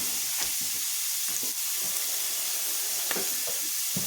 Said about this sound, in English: We're getting ready to stir fry it up